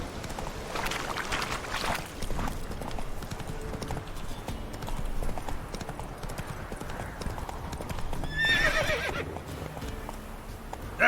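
Roach the horse galloping in The Witcher 3 video game, with steady hoof clip-clop over game ambience and a brief whinny near the end.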